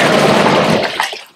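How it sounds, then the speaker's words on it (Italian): A hot tub whirlpool in a top-floor hotel suite churns with dense, loud bubbling and rushing water that cuts off and fades within about a second, with a few trailing splashes and no talk. "Siamo qui oggi nell'idromassaggio e fa anche le bolle"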